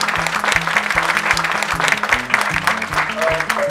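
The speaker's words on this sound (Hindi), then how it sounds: "चाहूंगी कि आप लोग सभी गणमान्य व्यक्तियों का जोरदार तालियों से स्वागत करें।" Applause from a panel discussion audience welcoming dignitaries at a Pride Week event, steady and continuous throughout, with low rhythmic music or beats running underneath.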